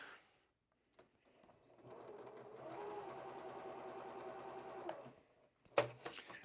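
A sewing machine stitches pieces of fabric together in a quilt block, whirring steadily at close range for a few seconds after a couple of soft handling clicks, then stopping, followed by a sharp clatter.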